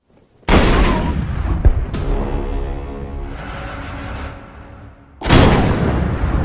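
A gunshot in a horror film as an uncle shoots his nephew from behind: a loud sharp blast, a decaying rumble with a second report, then another heavy burst near the end.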